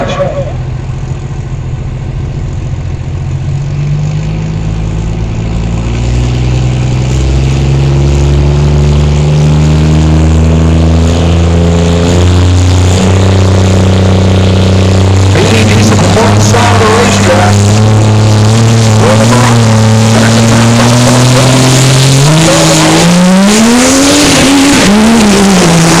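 Diesel drag racing cars in an Outlaw Diesel Super Series 5.90 class event, loud close engines winding up through rising pitch sweeps and repeated gear shifts over about twenty-five seconds, with a commentator talking over them.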